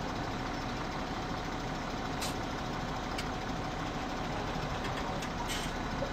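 Steady, continuous drone of a tractor engine running in the farming video game Goldcrest Valley, a constant low rumble with a few faint high clicks and beeps over it and no talking.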